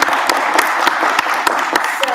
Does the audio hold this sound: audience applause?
yes